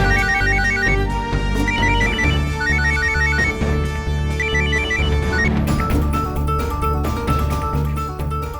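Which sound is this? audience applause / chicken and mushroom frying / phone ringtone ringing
phone ringtone ringing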